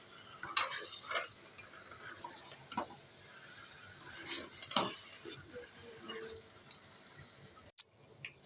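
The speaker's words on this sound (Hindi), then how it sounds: "ये देखिए इस तरह से आपने चम्मच चलानी है और भून लेना है, जलाना नहीं है आपने।" Eggplant roasting in a pan while a spoon stirs it, with soft sizzling under repeated scrapes and clinks of the spoon against the pan at an uneven pace, ending in a brief electronic beep.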